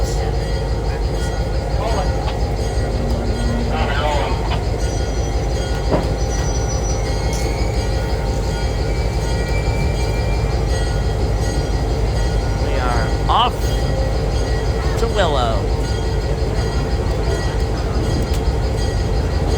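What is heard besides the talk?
heritage train starting off, Florida Gulf Coast Railroad Museum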